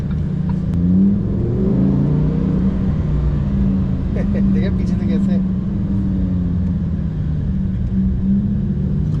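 A powerful rear-wheel-drive car gives a sustained, loud engine drone that rises as it revs and accelerates, heard close and steady from start to finish with a voice talking over it.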